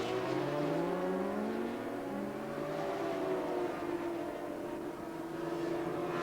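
750cc TTF1 racing motorcycles at Mallory Park in 1991, engines screaming continuously as several bikes rev and shift through gears in overlapping rising and falling whines, loud and sustained without a break, with no voices.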